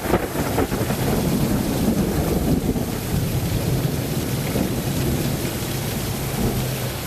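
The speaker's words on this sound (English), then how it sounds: "Plenty of lightning, and listen to the thunder." Rumbling thunder in a severe nighttime thunderstorm with frequent lightning, a broad continuous low roar with rain and wind buffeting the microphone, loud and steady throughout.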